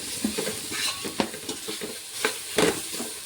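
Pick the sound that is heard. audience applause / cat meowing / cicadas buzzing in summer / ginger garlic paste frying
ginger garlic paste frying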